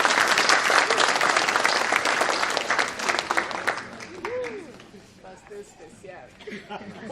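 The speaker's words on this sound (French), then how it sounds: "Please put your hands together one more time." Audience applause at a gathering, starting full and dense, then thinning out and fading toward the end, with a voice briefly heard over the clapping.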